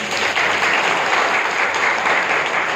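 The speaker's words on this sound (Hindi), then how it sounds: "ताली तो बजाओ।" An audience in a Brahma Kumaris class hall breaks into steady, dense applause, loud and close, sustained for the whole stretch.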